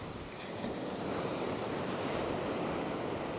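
Ocean whitewash washing onto a beach during surf fishing, a steady broad rush of surf with wind noise on the microphone, fairly faint and continuous.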